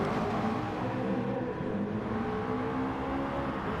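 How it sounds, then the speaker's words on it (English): A race car spinning its tyres down a hill, giving a steady, loud, broadband engine and tyre roar that holds for the full stretch with no clear breaks. "And again, burning his tyres out."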